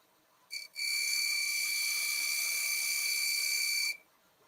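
A negative rake scraper cuts a maple box blank spinning on a wood lathe, giving a steady, high, whistling squeal that holds for about three seconds after a brief first touch, with no talking.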